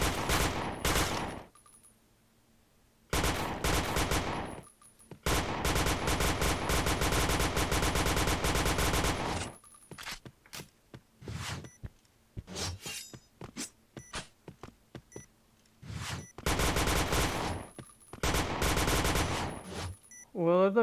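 Bursts of Thompson submachine gun fire in a bomb-defusal video game match, loud sustained volleys several seconds long alternating with short clipped shots and brief gaps, with faint background speech at points.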